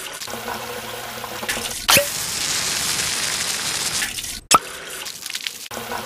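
A faucet runs tap water in an Arabic-language puzzle video game, a steady hiss of flowing water broken by a few sharp clicks and brief gaps, fairly loud and with no talking.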